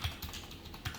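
A few soft keystrokes on a computer keyboard tap out quietly in a brief moment of typing.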